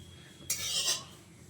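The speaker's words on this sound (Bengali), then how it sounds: "আর খুন্তি দিয়ে একটু ছড়িয়ে দিচ্ছি" A metal spatula scrapes and spreads hot mustard oil around a wok, one short rasping stroke lasting about half a second, close and fairly loud.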